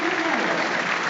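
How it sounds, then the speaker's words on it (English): A large stadium crowd at a Middlesbrough versus Tottenham football match applauds steadily in support of Ukraine, a dense, even wash of clapping. "And with this period of applause"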